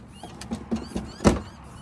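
A quick run of mechanical clicks and short motor whirs ends in a louder thunk as the door locks cycle on a 6x6 Land Rover Perentie.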